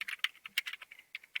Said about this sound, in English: place your cursor wherever you want and start typing